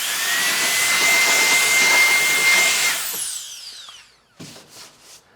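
A burst of compressed air blows dust off a toolbox, a loud, steady hiss for about three seconds before it tapers off, followed by a few faint short puffs.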